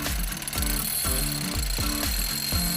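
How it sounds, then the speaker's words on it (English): A power drill bores a hole through a rock taken from a local hillside, hammering in regular bursts about every half second, loud and close with no talk. "This is one of the rocks off the local hillside here, and we just want to drill a hole through it"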